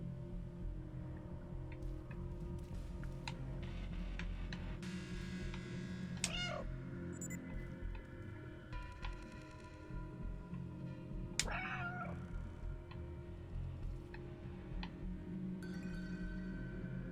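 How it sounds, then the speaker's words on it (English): Two short, clear meows from the cat in the Stray video game, several seconds apart, over a steady droning hum of in-game ambience with no talk. "How come they hear me meowing"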